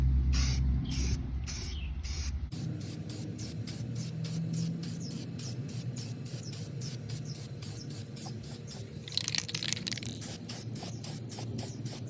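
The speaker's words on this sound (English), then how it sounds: "I think now I'm just gonna spray clear coat and be done with it" A spray can hisses clear coat onto a Silverado truck panel in short repeated bursts, a steady rhythmic spraying that is close and fairly loud, with one longer hiss near the end.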